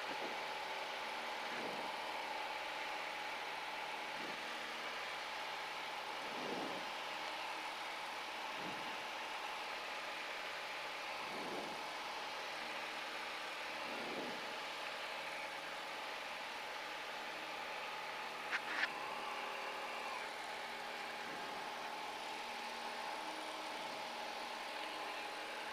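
Cessna 170 light aircraft engine heard from inside the cabin during departure, a steady continuous drone with a faint rhythmic pulsing, loud and even throughout with no talk.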